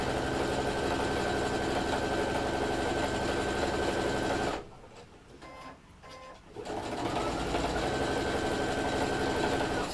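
Sewing machine stitching fabric down to make a scalloped noticeboard, a loud steady mechanical whir that runs continuously, stops for about two seconds midway, then starts up again.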